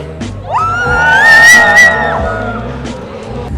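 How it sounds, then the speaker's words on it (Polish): A lively party crowd at an outdoor event in Łomża, with loud close shouting, a long rising whoop and cheering voices blending together over a thumping background. "super jak widać, zresztą wszyscy krzyczą, jest fajnie"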